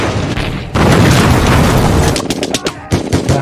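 A loud, close explosion in a World War II tank battle scene: a heavy roaring blast, then a rapid run of sharp gunfire-like cracks and bangs.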